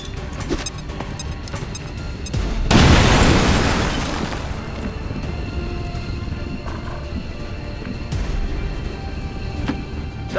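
A frag grenade exploding in XCOM 2, a single loud, broad boom with a roaring rumble that swells and slowly fades over a couple of seconds against a steady game background.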